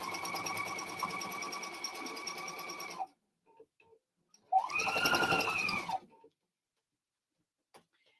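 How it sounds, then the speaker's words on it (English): A sewing machine stitches a seam at a 3/8 inch allowance in two close, loud whirring runs of about three and one and a half seconds, separated by quiet clicks, with no talking. "I'm just going to stitch this again at a 3/8 of an inch seam allowance"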